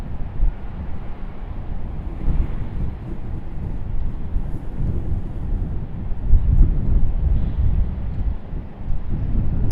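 Strong, steady wind roars across an outdoor microphone at Raleigh-Durham International Airport, a loud low rumble with gusty surges and no pauses.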